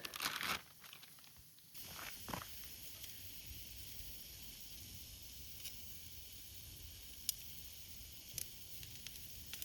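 Food cooking in a stainless steel pan over an open fire on a hot day, a soft steady sizzle and hiss heard up close, with a louder crinkly burst at the start and occasional faint ticks.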